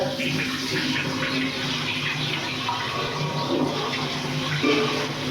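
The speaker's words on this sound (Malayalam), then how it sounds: "അപ്പോൾ വെള്ളം ഒരു പ്രാവശ്യം കഴുകി ഇത് രണ്ടാമതും കൂടി കഴുകുകയാണ്" Continuous sloshing and running water close by as pumpkin is swished and rinsed in a filled bowl, with no clear speech.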